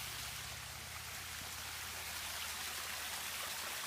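A small waterfall spills into a woodland pool, giving a steady, close, rushing wash of falling water with no pauses, dense and even throughout.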